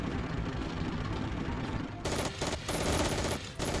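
Sustained rattling gunfire in a Battle Academy wargame as units shoot at a village building, dense continuous volleys with short breaks, loud and unbroken with no talk.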